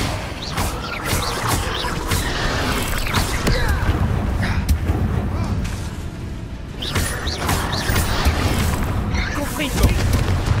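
Spell blasts from Bombarda and Confringo in Hogwarts Legacy, booming, crashing impacts repeating over continuous game noise, with a person talking throughout.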